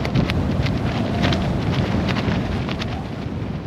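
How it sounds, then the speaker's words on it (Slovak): Strong wind roars outdoors in Iceland, buffeting the microphone with a loud, constant rumble and gusty hiss that never lets up. "Strašne fúka."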